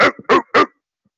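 A dog gives three quick, gruff barks in a short, evenly spaced burst, close and fairly loud, with nothing else around them.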